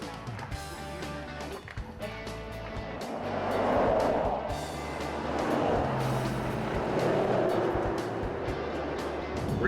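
A car driving along a gravel road through the Mark Twain National Forest, with a continuous rumbling rolling noise and crunching texture that swells in the middle and stays steady, plus some brief clicks and thumps and no talking.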